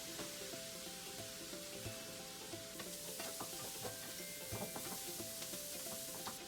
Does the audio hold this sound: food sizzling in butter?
yes